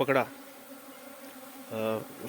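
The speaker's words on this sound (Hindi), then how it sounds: "एक आज मधुमक्खी का झुंड बाजार में बैठा हुआ था बिजली के पोल पे" A swarm of honey bees captured after settling on an electric pole in a market, with a low steady buzz throughout and brief voiced bursts at the start and near the end.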